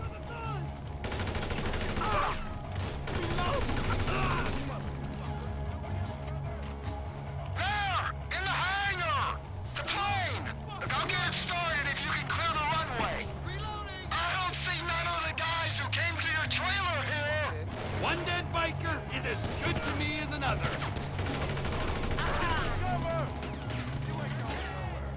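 Gunfire in Grand Theft Auto V during an assault on McKenzie Field Hangar, bursts of automatic shots and bangs recurring under game dialogue and a speaking voice, steady and loud throughout.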